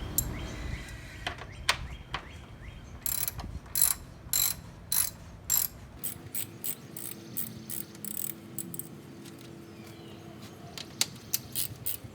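A hand ratchet backs out 10 mm bolts holding the radiator fans on a 6th-generation Toyota Celica, giving a series of sharp rapid clicks in short bursts with brief pauses between strokes, close by and fairly faint.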